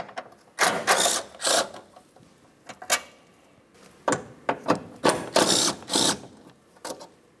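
Two 10mm mounting bolts come off a front wiper assembly on a 2009-2010 Pontiac Vibe, heard as repeated bursts of close ratcheting and metallic clicking in quick rhythmic runs separated by short pauses.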